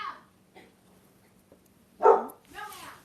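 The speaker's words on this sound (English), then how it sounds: "My dog's barking at nothing again" A dog barks at a window at night at neighbors outside: a loud, close bark after a quiet stretch, then a second, softer one, with faint small sounds before.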